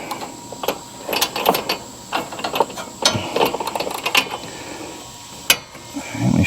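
Ratcheting wrench clicks in short bursts while a bolt is tightened on a zero-turn mower during an oil change, loud and close, with pauses between runs of clicks.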